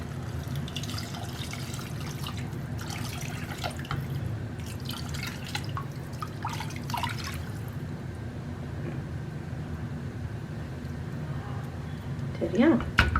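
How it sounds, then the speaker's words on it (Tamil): Measured water pours and drips into a bowl for a one-pot prawn biryani in a home kitchen, a soft trickling splash under a woman's speech that fades to quieter drips. "நான் இங்கே தண்ணியை அளந்து வச்சுருக்கேன், அதை இந்த பவுல்லே போட்டுக்கிறேன்."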